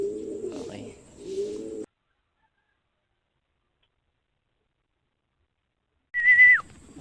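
Racing pigeon cooing at the loft during a pigeon race: soft low coos near the start, then silence, then a short whistle-like call and another coo near the end.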